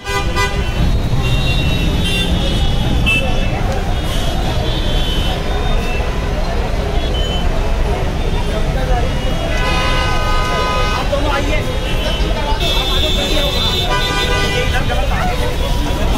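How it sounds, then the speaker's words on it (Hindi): Dense traffic jam in Noida with a large overcrowded crowd gathered; repeated car horns toot loudly over continuous engine rumble and crowd chatter, with voices talking throughout. "आप देख सकते हो पूरा ट्रैफिक जाम है नोएडा में"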